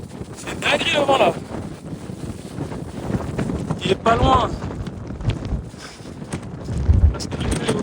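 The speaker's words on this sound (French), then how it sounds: "C'est une dinguerie le vent là." Strong wind on a mountain summit in Guadeloupe buffets the microphone in roaring gusts, with someone speaking briefly beneath the rushing noise.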